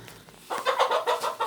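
Farm chickens cluck nearby in a short burst of rapid, choppy clucks after a quiet moment, heard alone.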